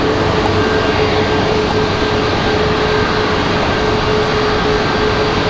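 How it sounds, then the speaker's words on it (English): A Southwest airliner on the runway at Raleigh-Durham International gives off a loud, continuous broadband jet engine roar with a steady faint whine, unbroken and without voices. "Looks like we got a Southwest out at the end of the runway ready to depart here in just a minute."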